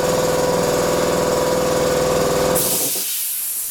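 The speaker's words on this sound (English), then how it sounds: "Compressor." An air compressor runs with a loud, steady motor hum and rhythmic pumping chug, close by, then cuts off abruptly, leaving a fading hiss of air.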